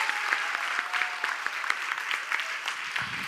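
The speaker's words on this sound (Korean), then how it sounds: "지금까지 슬리밍고 엄태우 대표이사님의 귀한 말씀 다시 한번 뜨거운 박수 부탁드립니다." Audience applause following a talk at a forum in Jeju, steady rapid clapping from a medium-sized crowd, fairly close and continuous with no voices over it.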